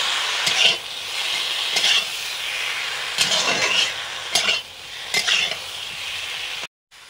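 A ground paste of mustard seed, cumin and green chili hits hot oil in a pan, giving a steady loud sizzle with several surges as it is stirred, then a sudden cutoff at the end.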